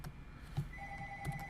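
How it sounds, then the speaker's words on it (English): Telephone ringing in a room: a steady electronic ring tone sounds partway through at moderate volume over a faint background hum, with soft thuds scattered around it and no talk. "I hate that phone. Apologies about the phone."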